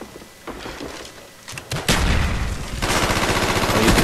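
Grenade launcher fire in Call of Duty: Black Ops wager match gameplay, a run of loud booming shots and blasts that build and thicken toward the end, with no talking.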